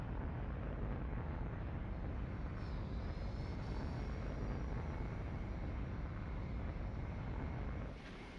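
Spaceship engines in the X4 Star Wars video game give a steady, broad roaring rush, loud and unbroken, then drop away suddenly at the very end.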